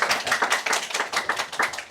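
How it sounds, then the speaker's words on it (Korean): Church congregation clapping together in a close room, a loud run of quick, fairly regular hand claps that keeps going without speech. "우리 박수 한번 합시다"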